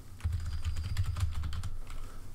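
Quick keystrokes on a computer keyboard clatter close up in a steady run of soft clicks, with no talking.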